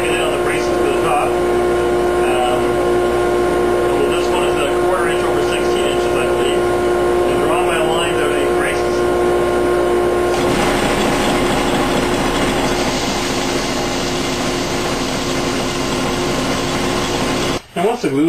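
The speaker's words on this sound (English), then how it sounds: "take your braces that you've made up and contour them on the bed sander" A bed sander runs with a steady, loud machine whine while guitar back braces are contoured against it, the tone shifting as wood is pressed on partway through, with a person talking over it.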